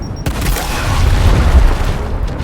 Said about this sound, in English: Clear him out with a frag grenade!